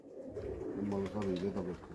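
Pigeons at a fancier's loft in Pakpattan coo in low, rolling phrases, close and steady, while someone talks over them.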